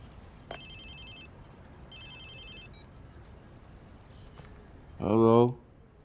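A phone rings in the video game Watch Dogs 2, two short electronic ring bursts at moderate level over quiet ambience, followed by a brief voice.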